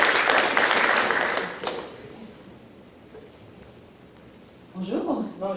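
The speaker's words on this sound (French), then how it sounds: "Accueillons-les chaleureusement avec une bonne main d'applaudissements." An audience applauds to welcome panel guests at a provincial convention's 50th anniversary panel; loud clapping for about a second and a half fades into quiet, then a voice speaks near the end.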